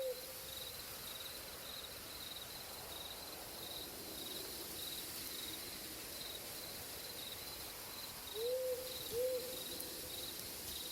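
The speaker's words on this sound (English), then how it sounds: "You hear owls in the distance" Owls hoot faintly at night over steady insect chirring, with one soft call at the start and a pair of distant hoots near the end.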